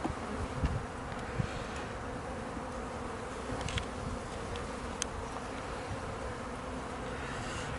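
Honey bees from a weak colony hum in a steady, dense buzz on a hive frame, heard up close and continuous with no talking.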